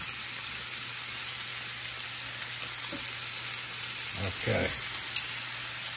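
Shrimp cook in a pan for scampi under a continuous bright sizzle, with a short burst of utensil scraping near the end and a single brief spoken word.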